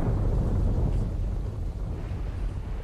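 A real thunderstorm, mixed with storm ambience from the video game S.T.A.L.K.E.R. Call of Pripyat, makes a steady, loud low rumble with windy noise that stays constant throughout.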